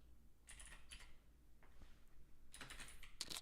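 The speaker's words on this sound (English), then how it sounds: "And I was just typing out a reply to you, Amanda." Fingers tap on a computer keyboard in a few short bursts of quick clicks separated by pauses, faint and close with no talking.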